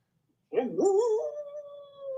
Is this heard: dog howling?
yes